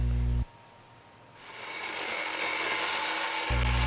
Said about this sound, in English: And here we are grinding one of the smaller pieces.